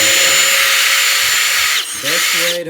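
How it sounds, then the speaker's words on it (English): A power drill mixing soap whirs steadily at high speed, dipping briefly as it bogs down, then revving back up close by. "I have to use a drill because I don't have any soap right now."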